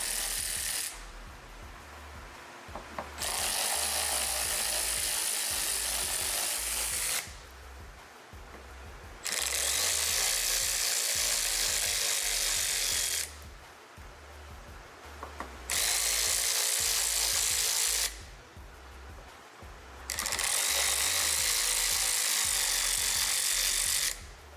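Bolts being removed from the fuel cap of a Bugatti Veyron with a power ratchet tool, four loud bursts of whirring, clattering tool noise, each lasting a few seconds, separated by short quieter pauses.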